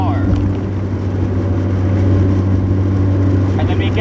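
Car with a 5-speed manual transmission cruising in fifth gear at about 2,800 RPM and 55 to 60 mph, a steady loud low engine drone with road hum throughout.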